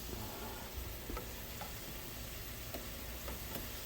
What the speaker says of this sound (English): We're going to try to put a little sear on the steak cubes.